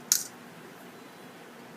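A single paper clip drops into a plastic egg shaker, giving one brief, light metallic tick close by, followed by quiet room tone.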